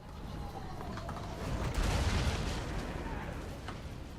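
Distant artillery volleys in a Total War: Warhammer battle, with a deep boom swelling near the middle over a constant rumbling battlefield roar; a couple of further muffled shots follow.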